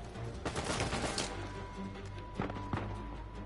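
Enemy gunfire in the video game Uncharted 4, a quick burst of rapid shots followed by a couple of sharper isolated cracks, moderately loud within game ambience.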